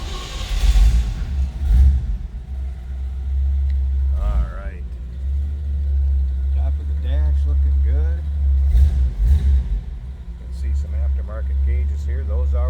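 A 1962 Chevrolet Bel Air engine runs with a deep, steady low rumble and a few slight revs, while someone talks over it.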